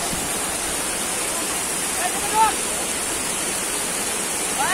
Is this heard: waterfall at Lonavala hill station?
yes